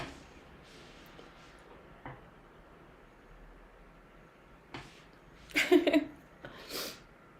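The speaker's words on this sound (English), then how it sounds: "I gotta sneeze." A person sneezes nearby, a sharp burst followed by a second, smaller one after a quiet stretch of faint room noise and breathing.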